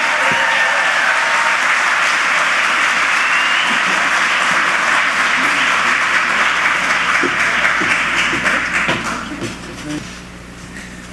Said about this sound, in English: Let's hear it for the Honourable Kathy Dunderdale